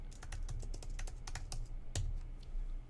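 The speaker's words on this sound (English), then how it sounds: "I'm just going to type it." Rapid, uneven typing on a computer keyboard, close and fairly loud, with dense clicks over three seconds and no voices.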